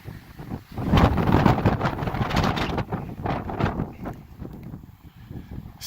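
Strong gusty wind buffets the microphone on the Guadalupe Peak summit in Texas, a loud, rumbling roar that rises and falls in waves with no talking.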